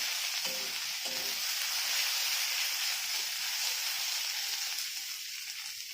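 Ginger garlic paste fries with gizzard meat in hot oil, giving a loud, steady sizzle throughout, with a few faint stirring knocks near the start.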